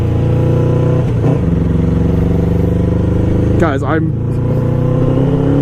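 A struggling motorcycle engine, loud and close, idles roughly and then revs sharply twice near the end, with someone talking over it.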